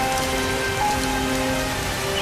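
Steady rain falls and patters on surfaces, a dense, even hiss with scattered droplet ticks, close and continuous with no talking, amid cartoon background tones.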